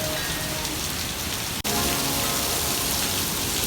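Steady, dense rain patters hard on surfaces during an outdoor Toyota Tacoma timing belt job, a loud continuous hiss with one brief break in the middle.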